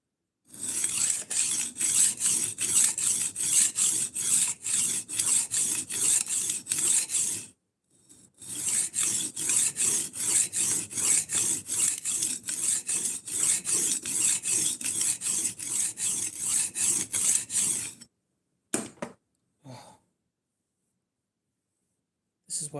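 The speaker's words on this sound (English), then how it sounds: "this is why I don't like sharpening large knives" A large knife being sharpened, steady rapid rasping strokes in two long runs broken by a short pause, then a few brief scrapes and silence.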